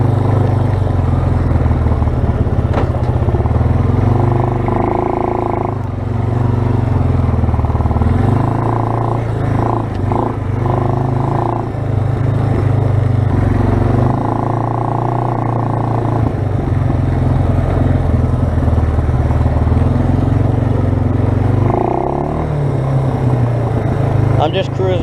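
Suzuki Eiger 400 ATV engine droning loud and steady while riding on a casual cruise, with a low, continuous rumble that rises and falls slightly with the throttle, and a voice talking over it.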